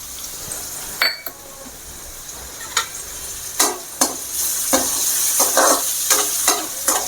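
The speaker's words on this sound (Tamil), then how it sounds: "பூண்டும் பச்சை மிளகாவும் நல்லா வதங்கணும்." Garlic and green chillies sauté in a hot pan with a steady sizzle, and a spoon clatters against the metal in irregular stirring strokes. The sound is close and loud and carries no voices.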